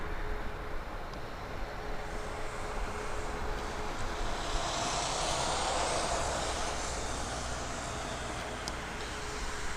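Steady broadband jet roar from an Embraer Praetor business jet coming in to land at Toronto Pearson Airport, a continuous distant rumble that swells slightly midway.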